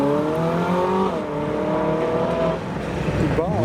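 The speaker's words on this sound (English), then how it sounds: "So we've got quite the supercar convoy leaving now with our 458 Speciale next up." A Ferrari 458 Speciale pulls away within a supercar convoy leaving a car show, its engine note rising and shifting in pitch, loud and close, with other car engines and background chatter mixed in.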